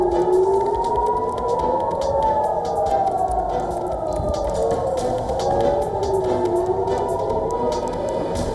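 Air raid sirens wailing in Jerusalem during a declared state of emergency, loud sustained tones rising and falling in slow overlapping sweeps, continuous throughout.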